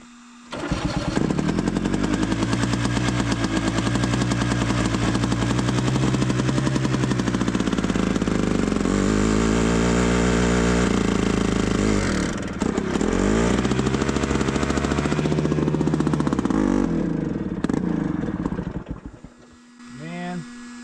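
An engine with a cold carburetor cranks over and over without firing, a loud, fast, steady rhythmic churning that pauses briefly near the middle, then runs on before dying away at the end.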